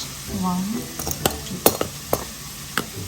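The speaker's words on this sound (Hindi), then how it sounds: "सॉटे होने दें" Fish and vegetables sautéing in a stir fry pan give a close, steady sizzle, broken by several sharp clinks of a utensil stirring against the pan, with a brief voice early on.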